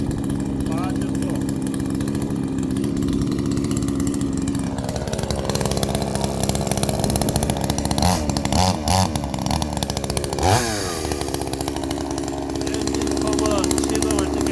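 A chainsaw engine runs continuously while cutting firewood logs, with its pitch dropping and rising as the saw bites into the wood and revs back up. Someone talks over it.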